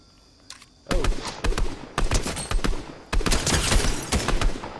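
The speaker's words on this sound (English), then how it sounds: "I'm still hearing shots" Bursts of rapid gunfire in a Fortnite match, several close loud volleys of shots rattling off in quick succession with short gaps between them.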